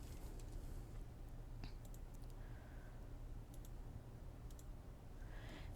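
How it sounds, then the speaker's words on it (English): Faint, scattered clicks of calculator keys being pressed, a few light taps spread irregularly over a quiet room hum. "going to type this in the calculator"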